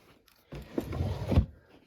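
A storage drawer in an art studio, holding timber automata kits, slides open with a brief soft scraping rumble lasting about a second, close by and with no voices.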